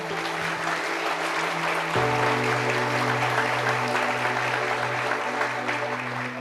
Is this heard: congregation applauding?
yes